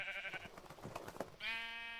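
Two sheep bleats in a video game, one wavering cry followed by a second, with soft clicking and shuffling between them.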